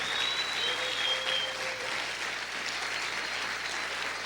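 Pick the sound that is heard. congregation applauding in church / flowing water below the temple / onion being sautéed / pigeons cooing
congregation applauding in church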